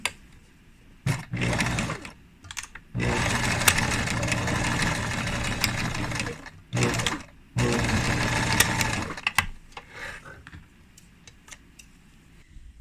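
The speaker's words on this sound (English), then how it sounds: "I sewed the strips together, and then I just overlocked the ends" A home sewing machine and overlocker run in several long bursts, joining fabric strips for a tiered lolita dress, a steady fast mechanical whir with brief pauses and small clicks between runs.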